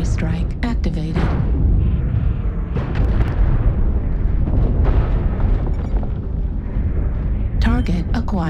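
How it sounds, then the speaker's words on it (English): Artillery strike explosions boom and rumble continuously in MechWarrior Online, a dense, loud roll of overlapping blasts, with brief synthetic voice callouts at the start and end. "Artillery strike activated."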